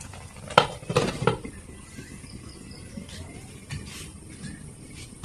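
Kochur loti curry is stirred in a cooking pot: a few soft metallic taps and scrapes close together early on, then quieter, faint stirring and background noise.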